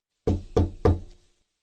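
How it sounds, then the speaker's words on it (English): Three firm knocks on a wooden door, evenly spaced and close, each with a brief resonant ring, alone with no talk. "Mrs. Crane knocks at the door"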